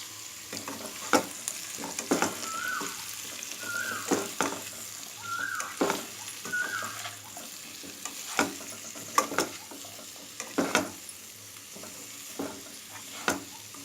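Jackfruit pieces frying in a pan with a little turmeric and salt, giving a continuous soft sizzle under regular scraping stirs and knocks of a spoon against the pan, heard up close without talking.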